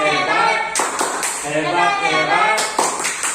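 A group of adult trainees performs a rhythmic 'tepuk hebat' clapping chant in a training session: sharp, patterned bursts of claps with voices chanting along, close and fairly loud.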